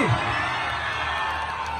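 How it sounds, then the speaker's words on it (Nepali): A crowd at a stage event cheers, whoops and applauds in a loud, continuous wash of noise with no individual voice standing out. "जोरदार ताली।"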